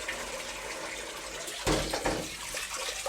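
Water running and sloshing as rice is rinsed in a bowl at a kitchen sink, a steady wash with a louder splashy swirl partway through, close and alone.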